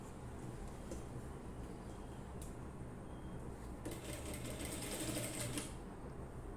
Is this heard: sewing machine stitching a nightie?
yes